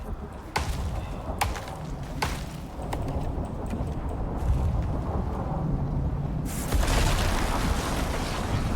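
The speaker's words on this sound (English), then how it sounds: "What I'm pretty sure happened was either I got struck by lightning" A thunderstorm in the video game Icarus rumbles with sharp cracks and thuds early on, and a lightning strike crashes in loudly near the end.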